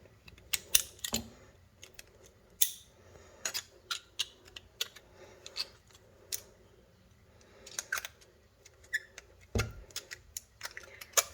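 Screws come out of an old hard drive with a string of small, sharp metallic clicks and ticks, irregularly spaced and close, over a quiet background.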